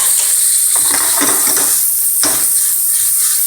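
Onion dropped into a hot pan of sizzling chicken for Korean spicy braised chicken, with a loud, steady hiss of frying and a few scraping stirs of a utensil against the pan.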